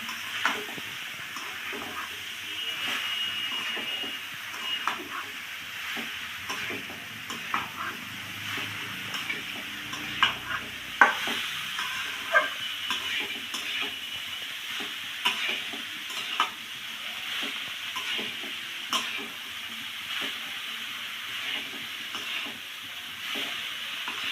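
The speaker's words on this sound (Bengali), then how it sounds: "মশলা কাঁঠাল একসঙ্গে সুন্দর করে কষিয়ে নেব" Boiled young jackfruit being stir-fried with spices in a pan: a continuous close sizzle with repeated scraping and clicking stirring strokes scattered across the whole stretch, no voices.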